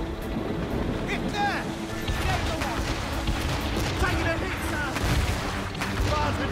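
Ship cannons booming in a naval battle in the Assassin's Creed Rogue video game, heavy rumbling blasts mixed with sea and crew noise, with shouting voices throughout.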